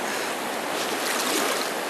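River water pours into a trout pool on the Farmington River, a steady broadband rushing wash heard close and fairly loud, with no voices.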